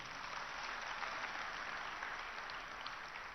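Steady, fairly faint applause from a large audience in a hall at the HICC in Hyderabad during a chief minister's speech at Independence diamond jubilee celebrations; continuous dense clapping heard from a distance, with no talking.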